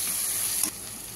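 Chicken pieces fry in oil with mustard and turmeric for shorshe chicken, a loud, steady close sizzle that drops a little partway through, with no voices.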